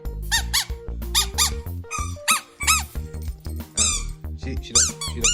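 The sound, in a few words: squeaky dog toy squeaking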